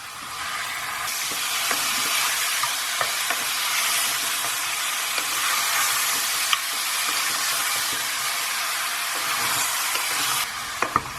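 Tomatoes hit browned mutton for a goat curry, setting off loud, steady sizzling and frying hiss, with occasional spoon clicks against the pan as the mix is stirred.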